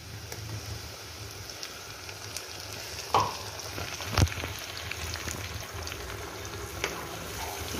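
Spice paste going into a pan of nearly browned onions for an egg curry, a low steady sizzle with a couple of sharp clinks from the spoon or pan, close up and without talk.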